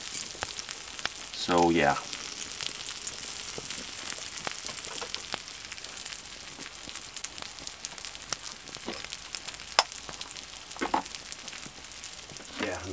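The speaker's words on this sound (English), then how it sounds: "the sausage is cooking" Sausage sizzling over a campfire at a camp, a steady close crackle and hiss that continues throughout, with a brief burst of louder sound near the start and a short spoken remark over the frying.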